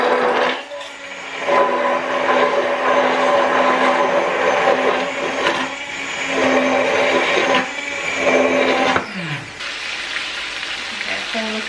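An inexpensive Kmart stick blender whirs through six eggs mixed with psyllium husk, a loud steady motor buzz running in two long bursts before cutting off and winding down.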